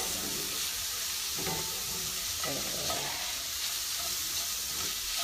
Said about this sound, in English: now we're sauteing the peas and carrots.